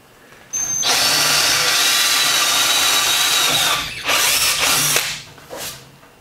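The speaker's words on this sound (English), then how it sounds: "It's not going to yank itself in there as I drill." A power drill bores into cast iron with a loud, close, sustained high whine that runs steadily for several seconds, dips briefly, then resumes in shorter bursts before stopping.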